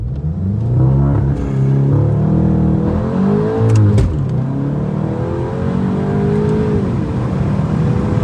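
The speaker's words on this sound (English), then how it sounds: "we're gonna hit a little bit of a launch control for you guys" A Volkswagen Golf Mk8 GTI launches from a standstill under launch control, its engine note rising loud and close through several gear changes with brief dips between shifts, sustained hard acceleration over the whole stretch.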